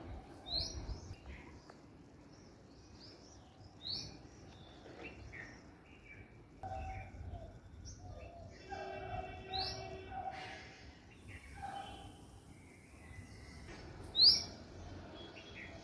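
Scattered bird chirps and tweets, fairly faint, over quiet background, with a brief louder call near the end.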